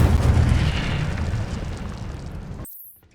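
Incendio fire spell cast in the Hogwarts Legacy video game: a loud, dense whooshing burst of flame with heavy low rumble that holds steady for over two seconds, then cuts off abruptly into near silence.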